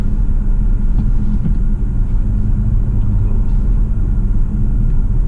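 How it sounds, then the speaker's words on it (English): Inside a Volkswagen Tiguan Allspace with a 2.0 TSI engine and seven-speed DSG, coasting in fourth gear: a steady, loud low rumble of road and engine noise with no talking. "So see, now I'm in 4th gear. I let go of the car and it'll start coasting in a bit."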